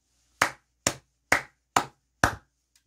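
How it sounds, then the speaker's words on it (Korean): Five sharp, evenly spaced hand claps ring out close and loud, each ending quickly, with no voices, a short celebratory round of clapping. "크게 박수 한번 치고 가도록 하겠습니다"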